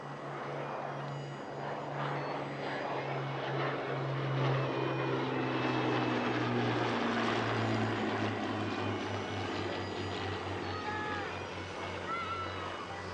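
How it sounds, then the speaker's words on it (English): Hawker Hurricane R4118, a 1940 Second World War fighter, drones steadily overhead at an airshow with a deep, continuous propeller-engine hum that swells slightly mid-pass. "Flying in the number 2 position is Hurricane R4118"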